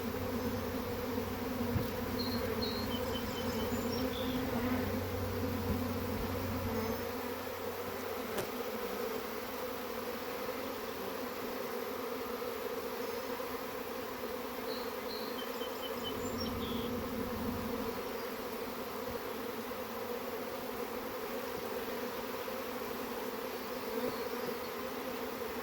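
A honeybee swarm being collected into a hive frame box outdoors hums steadily and densely for the whole stretch, a continuous buzzing drone that stays close and fairly loud throughout.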